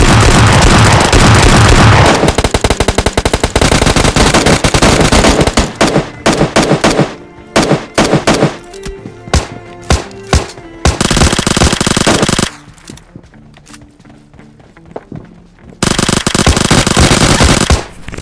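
UZI submachine gun in PUBG Lite firing loud rapid automatic bursts, long sustained volleys broken by short pauses, with a quieter stretch of lighter shots midway before a final heavy burst.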